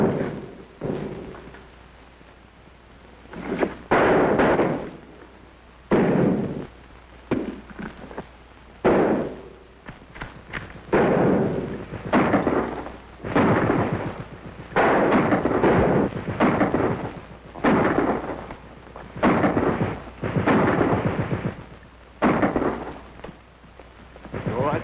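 Battle gunfire in a 1942 war film, heavy booming blasts and rumbling explosions arriving in irregular bursts, loud and reverberant, with brief quieter gaps between volleys.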